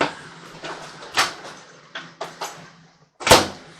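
A drawer in a 2022 Forest River Salem Hemisphere 36FL RV trailer is handled, giving a series of short wooden knocks and slides, finishing with a sharper close, near and fairly loud.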